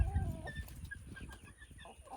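Young chickens, including Rhode Island Reds, cluck in short, scattered bursts at moderate distance, with a louder burst at the start and softer clucks trailing off.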